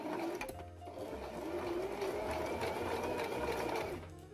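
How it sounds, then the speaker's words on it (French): A sewing machine stitches lingerie elastic onto fabric, its motor whirring in a steady, close, continuous run that barely pauses. "Donc là je vais coudre de manière à ne rien toucher en fait"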